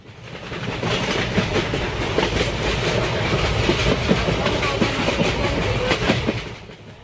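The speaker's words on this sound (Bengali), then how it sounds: "ট্রেনটাও সময় মতো হাওড়া প্ল্যাটফর্ম থেকে রওনা দেয়" A passenger train pulls away from a Howrah station platform, its wheels giving a steady, close, continuous clickety-clack and rumble that holds for several seconds, with no voices.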